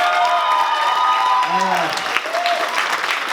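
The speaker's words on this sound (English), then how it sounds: "I kind of just give her another round of applause" An audience at a middle school theater performance applauds in a dense, continuous wash of clapping, with voices and cheering audible in the crowd throughout.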